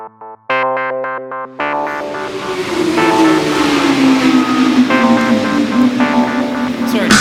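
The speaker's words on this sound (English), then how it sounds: "here at Silverstone with some of the world's best 1000cc superbikes" 1000cc superbike engine at Silverstone, a sharp rising rev with strong harmonic whine that settles into a sustained, loud, buzzing drone as someone talks over it.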